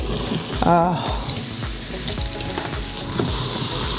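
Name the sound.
sliced mushrooms sautéing in an Instant Pot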